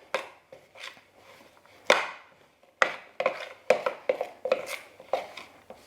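Oobleck being mixed by hand in a bowl, a series of irregular soft slaps and thick squelching knocks, close up and clearly audible, growing quicker toward the end, with no voices.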